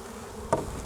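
A heaving mass of honey bees buzzes inside a hive during a swarm-prevention inspection, a steady close drone with a sudden short thump midway as bees are knocked down.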